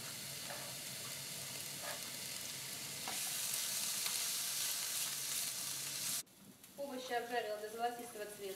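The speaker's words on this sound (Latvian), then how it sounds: "Sildu eļļu, es izmantoju olīveļļu, apcepšu dārziņus, līdz paliek zeltaini." Steady sizzling of vegetables frying in hot olive oil, a continuous hiss that cuts off abruptly before a voice begins speaking.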